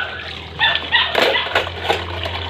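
Neighbors' dogs bark a few times at a moderate distance over a low steady background hum.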